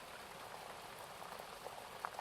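A distant river flows in a faint, steady watery rush with occasional soft splashes and bubbling, heard alone without any voices.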